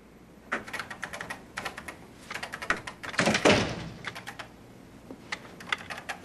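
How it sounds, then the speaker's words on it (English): An indoor door is pushed shut with one dull thud partway through, surrounded by fairly close, steady clicking of typing on a computer keyboard; no one speaks. "Close that door."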